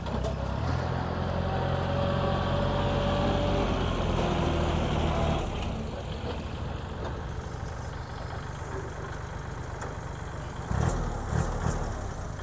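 A Kubota L3608 tractor's diesel engine idles steadily and evenly close by, a smooth continuous rumble with no voices, briefly changing tone near the end.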